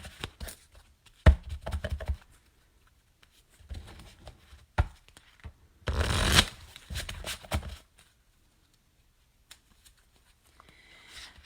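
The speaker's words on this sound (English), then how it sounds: "All right, I'm shuffling for you." A deck of cards is shuffled by hand in quick bursts of riffling and soft snapping, separated by pauses and small handling noises, close and fairly quiet.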